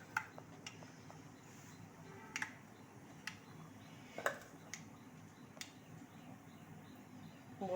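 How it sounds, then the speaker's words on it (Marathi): Mustard seeds crackle in hot oil for a tempering, sparse sharp pops and ticks spaced irregularly over a quiet background, faint but distinct, with no talking. "मोहरी फुटते"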